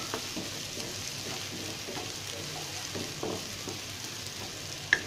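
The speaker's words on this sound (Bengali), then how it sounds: "পেঁয়াজটা আমি বেশি ভাজবো না," Chopped onions and green chilies frying in mustard oil for Bangladeshi hilsa khichuri, a steady close crackling sizzle with faint stirring taps and one small clink near the end, no talking.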